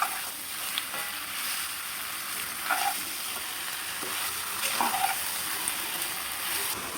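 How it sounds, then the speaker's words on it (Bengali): Chicken pieces frying with spices in a pan while being stirred for morog polao, a steady close sizzle with occasional scrapes and clinks from the spoon, with no talking over it. "এই তো চিকেনগুলো দিয়ে দিলাম। আর এখন যে মশলাটা ছিল সেটার সাথে ভালোভাবে কষিয়ে নিব।"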